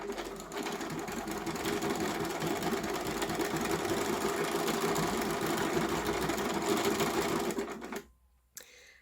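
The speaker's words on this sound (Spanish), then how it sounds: "Voy a empezar a coser simplemente pulsando el pedal. Y va a empezar a coser." A Bernina B535 sewing machine runs a decorative stitch, 305, at a steady, dense whirring pace, loud and close, then stops abruptly near the end.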